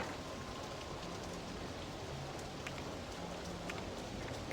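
Steady, dense rainfall in the 1999 video game RollerCoaster Tycoon, a continuous even patter of drops on surfaces filling the whole stretch at moderate level, with no talk over it.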